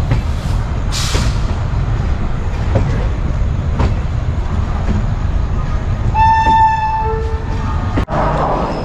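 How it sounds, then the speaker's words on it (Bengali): A train pulls into Howrah station on the overnight run from Digha, with steady loud rumble of wheels and carriages, a few sharp clanks, and a brief tonal horn blast near the end. "আমাদের ট্রেন কোন প্ল্যাটফর্মে ঢুকিয়েছে সেটা বোঝা যাচ্ছে না।"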